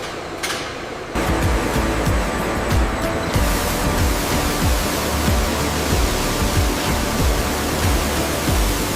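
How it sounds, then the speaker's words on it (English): High-pressure water rinse in a hide factory, a dense continuous hissing spray that starts abruptly and keeps going loud and steady, with faint knocks underneath. "Maintaining optimal pressure for final rinse"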